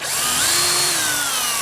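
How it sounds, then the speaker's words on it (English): Close power drill cutting a second hole in a wooden carpenter bee trap block, a loud continuous motor whine that rises briefly and then sags slightly under load, heard alone. "we'll drill another hole here,"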